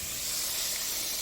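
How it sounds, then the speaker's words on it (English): Beef tips sizzle steadily in a hot pan while being prepared for a carnivore casserole, giving a loud, continuous hiss with no talking. "here's the sizzle"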